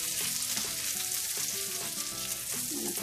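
Half a spoon of cumin seeds fry in hot oil in a pan, giving a loud, steady, close sizzle with faint crackles and the occasional scrape of stirring.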